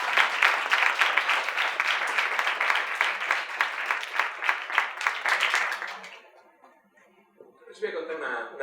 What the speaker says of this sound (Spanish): es un aplauso tras el otro